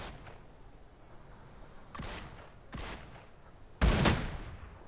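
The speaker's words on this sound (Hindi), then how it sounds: "मेरे पीछे फायर आया" Gunfire in the mobile battle royale game New State: three separate sharp shots, the last the loudest and closest, each trailing off with a short echo against a low steady background, no talking.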